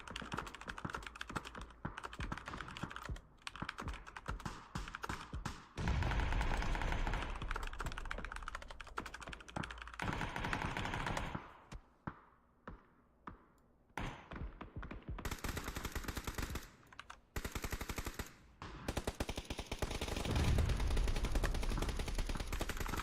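Sustained gunfire from a large 32-versus-32 PUBG Nations Royale battle, with dense bursts of automatic rifle fire and rapid shots, loud and continuous with brief lulls, no talking heard.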